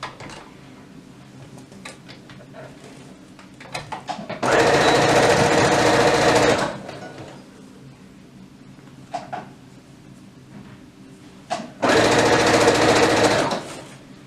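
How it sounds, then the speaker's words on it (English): A sewing machine stitches the side seam of a toddler's elastic-waist dress in two loud, steady bursts of about two seconds each, with quieter handling noises and pauses between them and no talk. "Starting at the bottom of the armholes, we're just going to sew all the way down."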